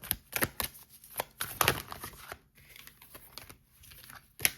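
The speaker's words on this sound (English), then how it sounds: "Too many cards. We're going to keep shuffling." Oracle cards being shuffled by hand, giving quick papery riffles and soft slaps in irregular bursts with short pauses between, close and fairly quiet.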